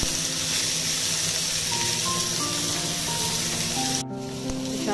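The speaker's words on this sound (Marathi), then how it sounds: "जे इन्ग्रेडियंट्स आहे आपण जे घेतलेले आहे कोकोनटमध्ये, जे भाजी करतात किंवा माझ्यासारखं एकत्र टाईम सेव्ह करण्यासाठी तुम्ही ते तेलावर परतून घ्यायचे।" Spices and coconut sauté in oil on a pan for a black-eyed bean curry, a loud continuous sizzle heard close up that drops slightly near the end, with no talk.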